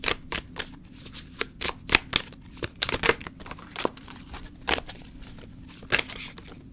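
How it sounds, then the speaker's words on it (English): Oracle cards being shuffled by hand, a run of crisp riffling bursts and soft slaps repeating in an uneven rhythm, close and clear with no talking. "I'm just gonna shuffle one more time and then pull one"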